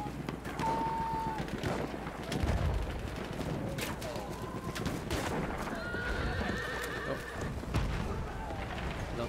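A horse in Battlefield 1 whinnies amid clip-clopping hooves and distant gunfire in a trench battle, the neighs short and mid-distance over a busy game soundscape.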